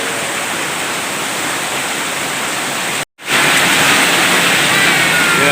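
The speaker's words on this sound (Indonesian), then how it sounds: "Hujannya deras ya." Steady, dense roar of heavy rain pouring down, broken by a brief moment of silence partway through before the downpour resumes just as loud.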